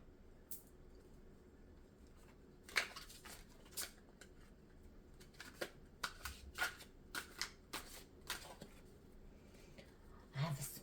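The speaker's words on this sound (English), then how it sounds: "I have a hard time to shuffle the cards." Tarot cards are shuffled in a series of quick riffling bursts, close and fairly soft, repeating with short pauses between them.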